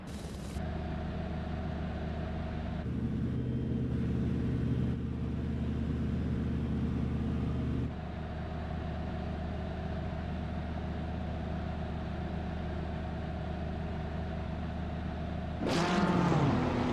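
Engines of video game race cars roar steadily at the start of a race, a sustained mid-pitched drone that shifts gear around four and eight seconds and flares into a louder rev near the end.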